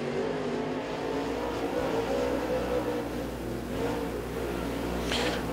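A super late model race car with a Rocket chassis and B&B Performance engine laps Crossville Speedway in qualifying, its engine droning steadily at a distance with a faint rise near the end.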